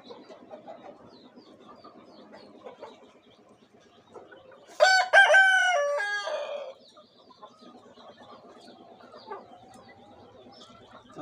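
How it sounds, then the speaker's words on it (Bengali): A Buff Brahma or Aseel rooster gives one loud, close crow of about two seconds, ringing over a quiet farmyard with faint clucking and soft background chatter around it. "এটা হচ্ছে বাফ ব্রাহামা মোরগ, এটা হচ্ছে আসিল মোরগ।"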